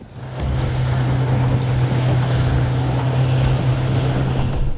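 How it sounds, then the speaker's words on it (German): Strong wind blowing across a lake while fishing from a boat: a steady, loud roar with a constant low hum beneath it, and no voices. "The wind is so hard."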